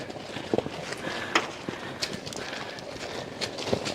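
Heavy water buffalo hooves thud and clop in an uneven running rhythm, fairly close, with scattered knocks and scuffs.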